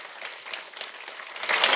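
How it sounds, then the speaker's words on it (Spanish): A church congregation breaks into applause during a sermon, scattered clapping that swells louder toward the end. "Denle un aplauso al Señor."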